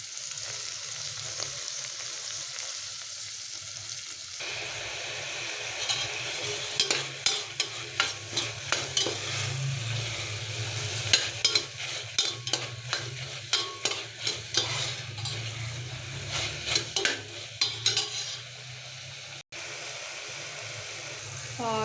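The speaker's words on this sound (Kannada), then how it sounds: "ಹೀರೆಕಾಯಿನೂ ಅಷ್ಟೇ ಸ್ವಲ್ಪ ಚೆನ್ನಾಗಿ ಫ್ರೈ ಮಾಡ್ಕೊಬೇಕು" Chopped ridge gourd with rock salt fries in a pan for a Kannada gojju, a steady sizzle running throughout with frequent scraping stirs and clinks of a spatula, close and moderately loud, with no one talking.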